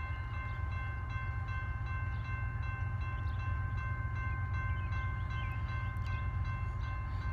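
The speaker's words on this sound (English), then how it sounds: "Here comes that southbound BNSF Q." A southbound BNSF freight train passes a crossing near Springfield, Missouri, with signals flashing and gates down, giving a steady, loud low rumble of rolling cars and wheel clatter with a faint tonal ring above it throughout.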